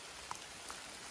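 Rain falls in a mountain forest on Gunung Kawi, a faint, steady patter and hiss with a few soft drops standing out.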